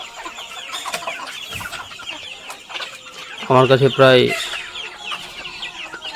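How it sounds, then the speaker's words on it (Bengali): Chickens on a farm peck at feed put out for them in the open, clucking and squawking close by with one louder burst of calls, while someone speaks over them. "বাইরে খাবার দিয়ে দিয়েছি, মুরগিগুলো এখন খাচ্ছে, আপনারা দেখতে পাচ্ছেন।"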